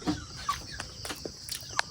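Chickens on a mountain farm cluck in short, scattered calls, close and fairly clear, with faint rustling around them.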